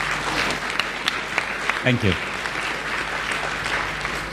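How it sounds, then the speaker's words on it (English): A conference audience applauds a panel discussion, a moderately loud, steady patter of clapping, with a brief spoken word near the middle. "Perhaps we all deserve a clap."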